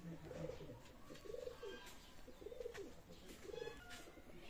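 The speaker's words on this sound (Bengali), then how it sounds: "ব্ল্যাক শাহরানপুরি অসাধারণ কবুতর," A loft of black Saharanpuri pigeons gives four or five repeated throaty coos at a moderate distance, over a constant low background hum, with no voices.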